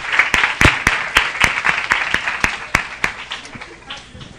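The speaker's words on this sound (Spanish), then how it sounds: "un fuerte aplauso para él" Applause from an audience at a tech conference talk on artificial intelligence in video games, a burst of sharp claps with a few loud individual hand strikes standing out, thinning and fading toward the end.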